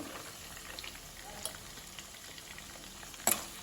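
Chopped ginger and garlic fry in a pan for aloo bonda, giving a soft, steady sizzle with faint stirring, and a brief sharper crackle near the end.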